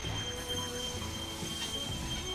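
A train in the Railway Empire game rolls along with a steady mechanical rumble and sustained high wheel squeal, loud and continuous throughout.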